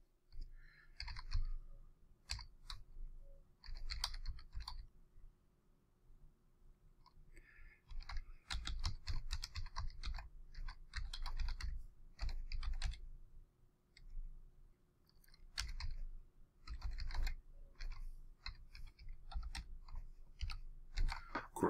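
Quick runs of light plastic key clicks from a computer keyboard as sign-in credentials are typed, close and fairly quiet, coming in bursts with short pauses and no talking.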